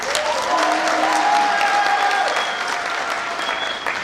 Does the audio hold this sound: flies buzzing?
no